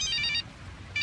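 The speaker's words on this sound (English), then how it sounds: "Oh, that's my phone." A mobile phone ringtone plays two short bursts of a bright repeating melody separated by a brief pause, clear and fairly close, with no talking.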